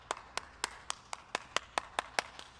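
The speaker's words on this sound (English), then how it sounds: "That alone deserves a round of applause." A single person claps about a dozen times at a steady, even pace, faint and crisp, with nothing else around it.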